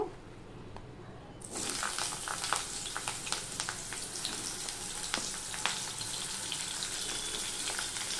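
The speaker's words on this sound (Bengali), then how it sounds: "এবারে তেলটা গরম হয়ে গেলে প্রথমে আমি পটলগুলো ভেজে নেব।" Pointed gourd (potol) drops into hot oil after a quiet start and erupts into a loud, continuous sizzle crackling with sharp pops that carries on steadily to the end.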